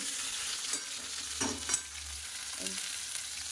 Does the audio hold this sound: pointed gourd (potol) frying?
yes